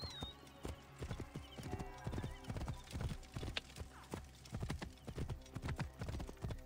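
Hooves pound in a fast, continuous clip-clop rhythm as a horse gallops in the video game Assassin's Creed Origins, with a short whinny near the start and no talking.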